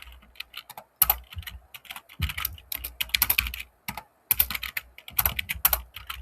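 Rapid typing on a computer keyboard while writing code, with bursts of close, crisp key clicks broken by short pauses and occasional heavier thumps of the space or enter key.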